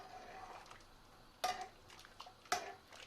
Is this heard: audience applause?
no